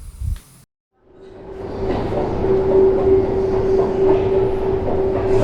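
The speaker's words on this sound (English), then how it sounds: "I'm gonna show you one of the world's deepest metro stations." A metro train runs through Admiralteyskaya, a deep station on the Saint Petersburg metro. A brief noise and a moment of silence come first, then a steady rumble with a sustained whine that stays loud for several seconds, with no talk.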